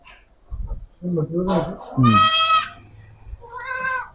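An African Boer cross breeding buck and nearby goats bleat in several loud, wavering calls close by, with someone talking between and around them.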